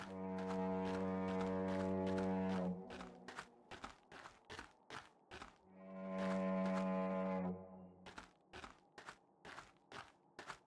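A deep, loud foghorn blasts twice, each long sustained tone lasting about two and a half seconds, separated and followed by a series of sharp crunching footstep-like thuds.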